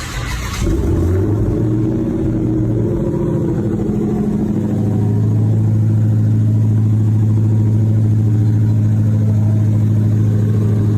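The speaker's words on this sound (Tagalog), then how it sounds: "Hellcat Red Eye Startup for the first time." A powerful Dodge Challenger Hellcat Redeye engine cranks and fires up with a loud burst, then settles into a deep, steady rumbling idle that fills the rest of the clip.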